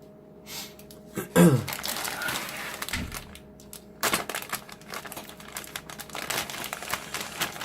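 Cardboard box of an Italeri 1/35 M4A1 Sherman model kit being ripped open, a sharp tear followed by crinkling and rustling of packaging, close and intermittent with quiet room noise between.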